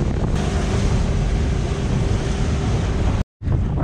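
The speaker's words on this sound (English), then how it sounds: "Oh man, you gotta love windy days" Strong wind on a fishing outing buffeting a microphone with a constant roaring rumble, broken by one brief dropout near the end.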